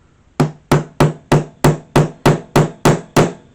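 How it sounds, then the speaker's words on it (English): A Torx bit is tapped with a hammer to drive the pin out of a Citroen C4 Grand Picasso Mk1 key fob case, giving ten sharp, close, evenly spaced metallic taps. "Best Torx bits we can to give it a gentle tap out."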